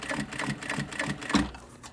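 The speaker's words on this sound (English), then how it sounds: "I'm just going to keep stitching right around here" A sewing machine stitches vinyl in quick rhythmic bursts, the needle's regular mechanical clatter close and clear, with a heavier thump near the end before it slows.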